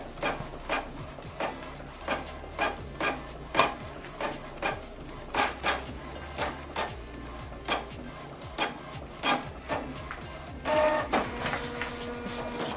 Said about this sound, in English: Now see that it's going back in for us to print double-sided.